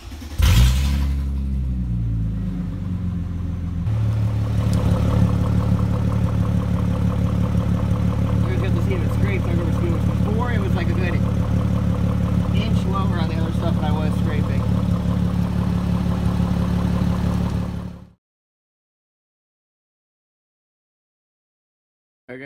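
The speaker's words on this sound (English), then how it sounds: "now it's gonna be loud, because we're in the garage. It's gonna be a cold start" A Mercedes-Benz SLK320 engine cold-starts inside a garage and settles into a loud, steady idle that rumbles for around fourteen seconds before cutting off into silence.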